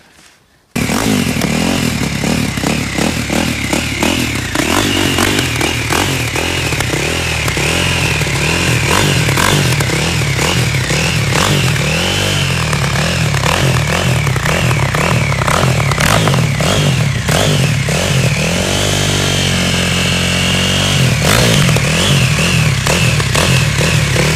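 An ice racing motorcycle engine starts and warms up, a loud close buzzing drone that rises and falls in repeated revs for over twenty seconds, with a brief throttle blip dip near the end.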